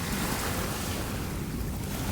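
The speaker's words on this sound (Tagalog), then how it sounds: "Walang tigil yung alon, no, be?" Constant broadband rushing of ocean surf on a black-sand beach, steady and fairly close, with a windy hiss over it and no clear breaks between waves.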